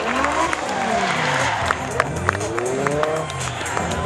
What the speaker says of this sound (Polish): I wielkie brawa dla Artura Opieli